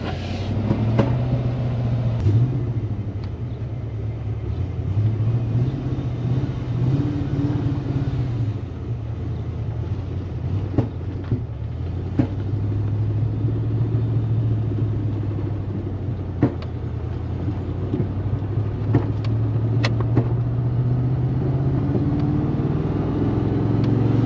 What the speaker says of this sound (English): Oh, she's shifting pretty good. Backfiring a little bit.